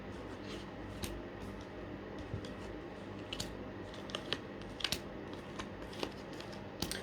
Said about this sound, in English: I'm just going to do a shuffle.